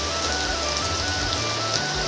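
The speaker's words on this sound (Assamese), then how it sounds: "আজি বৰষুণ দি আছে" Rain falls steadily outdoors, a dense, even hiss of drops on surfaces close by, with no pauses and no voices over it.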